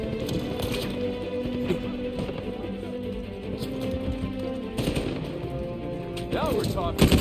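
Rapid gunfire in the video game Uncharted 4 crackles in clustered bursts over a dense game soundtrack, with a voice rising briefly near the end.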